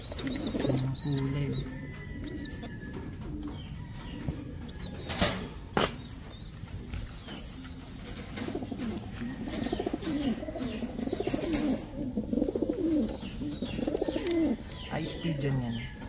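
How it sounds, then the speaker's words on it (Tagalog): Pigeons coo and flap their wings nearby in a loft, with ice pigeons among the birds; the low cooing runs steadily throughout, broken by a few sharp wing bursts, while a person talks intermittently over it. "pigeon yan."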